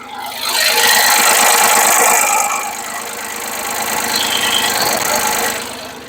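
A Shibaura SL1643 tractor engine runs loud and close, a steady rumbling chug with a rattling knock that swells and eases slightly as the sound source shifts.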